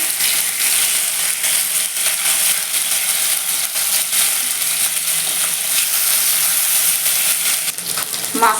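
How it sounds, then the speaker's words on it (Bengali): Rohu fish pieces frying lightly in oil in a pan, giving a loud, continuous sizzle that crackles steadily throughout without any voices. "একটু হালকা করেই মাছটাকে ভেজে নেব মাছটা একটু উল্টে পাল্টে ভেজে নেবো"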